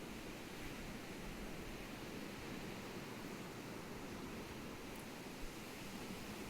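Ocean waves wash in a continuous, soft broadband roar, distant and even, with no distinct breaking crashes standing out.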